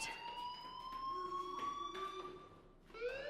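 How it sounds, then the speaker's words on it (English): A fire alarm in the game Life is Strange sounds as a steady, piercing electronic tone held over a few seconds with a brief shift near the end, moderately loud, with no talk. "do you hear that fire alarm? That means you should be outside"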